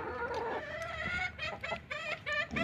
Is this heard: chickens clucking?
yes